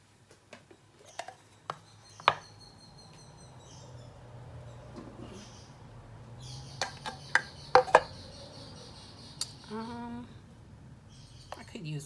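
A kitchen knife chops on a board in a small kitchen during shrimp pasta prep. The cuts are sparse, soft taps in a quiet room, with low talk between them.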